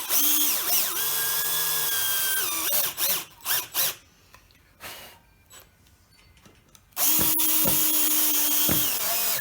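Power drill driving screws to fix a wooden branch onto a lamp base, with long whining bursts of the motor at the start and end, close and loud, and quieter handling rattles and taps in between.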